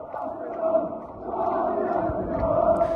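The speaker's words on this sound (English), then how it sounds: "you see the crowd chant, this clip of Tom Aspinall, of the crowd chanting Tom Aspinall" A large arena crowd at an MMA event chants Tom Aspinall's name in a sustained, rhythmic roar of many voices, steady and loud throughout.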